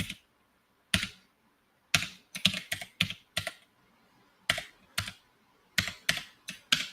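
Keys clack on a computer keyboard in quick irregular bursts, with some repeated presses like a delete key being tapped, close and clear with short pauses between runs.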